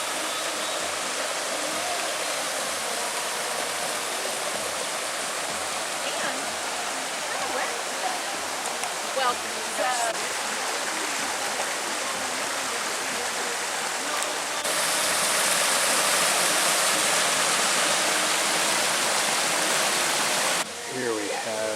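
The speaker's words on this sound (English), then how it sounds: "there's just a lot of glorious waterfalls here" Waterfalls and running water beside a walking trail to Santiago make a steady broadband rush throughout, swelling louder toward the end as the water gets closer, with someone talking intermittently over it.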